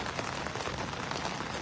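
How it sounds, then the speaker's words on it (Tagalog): Heavy rain pours at a fishing spot in Taiwan, making a dense, even patter that stays steady and close throughout. "Malakas yung ulan dito mga idol."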